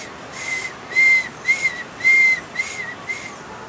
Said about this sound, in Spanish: Un silbato.